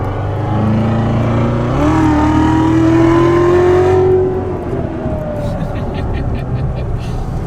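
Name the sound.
Callaway 757 horsepower C7 Corvette Z06 accelerating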